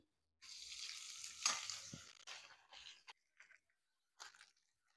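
Bay leaf, dried red chili and panch phoron crackle in hot oil: a close sizzling burst that swells, then breaks into short intermittent spatters and pops, with silent gaps between.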